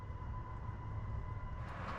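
A train nears Boden Central station in Sweden, heard from inside as a faint, steady low rumble with a constant hum and no talking.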